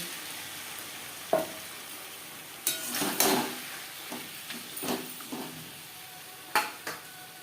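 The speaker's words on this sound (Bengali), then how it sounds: "4টে ছোট সাইজের টমেটো, আর দিয়ে দেবো সামান্য পরিমাণের জল।" Small tomatoes with a little water cook in a pan over a gas flame, giving a soft background sizzle broken by several sharp clanks and scrapes of a utensil against the pan, close by with no talk.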